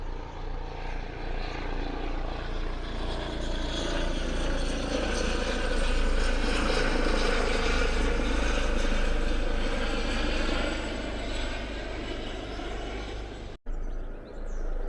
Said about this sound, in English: if you can hear us over the helicopter noise